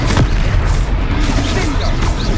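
A Confringo fire spell explodes during a Hogwarts Legacy battle, heard as loud, dense booming blasts that fill the whole short stretch without a break.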